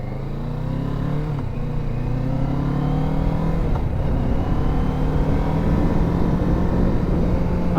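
A Kawasaki Ninja 650 motorcycle engine hums steadily while riding with rising and falling revs, including a clutchless downshift, sustained and close over constant wind rush.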